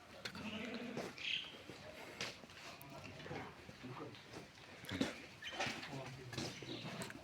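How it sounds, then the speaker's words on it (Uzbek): Ewes that have recently lambed bleat in a lambing shed, with repeated overlapping calls near and far, some sharp and high, under a steady barnyard murmur and occasional voices. "Bolalagan qo'ylar."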